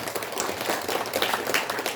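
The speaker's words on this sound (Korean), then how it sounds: "강기정 시장님께 다시 한번 큰 박수 부탁드립니다" Applause at a Gwangju commemorative launch ceremony honoring the mayor, a dense steady patter of many hands clapping together, moderately loud and continuous throughout.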